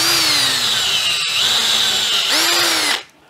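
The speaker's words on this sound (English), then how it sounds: "I'm going to drill a hole in it." A power drill bores a hole through the center of a part from a Hacker RV20 radio, running as one steady, loud whine that slows slightly partway through and then cuts off abruptly.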